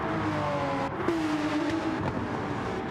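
A race car in a racing video game rounds a corner during an endurance race at Watkins Glen, its engine droning steadily with slight pitch shifts as it comes out of the turn.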